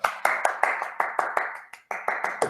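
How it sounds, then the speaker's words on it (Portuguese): A person claps hands about a dozen times in a quick, slightly uneven rhythm, sharp close claps with a brief pause near the end before resuming, in a room with no talk over them. "Eu tô batendo palmas."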